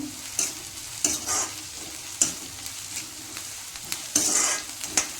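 Gobi (cauliflower) in gravy frying in a pan, a soft continuous sizzle broken by several louder scrapes and stirs of a spoon against the pan at irregular intervals, close up, with no speech.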